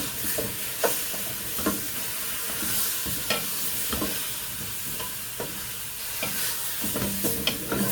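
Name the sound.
stirring spices into frying meat and beans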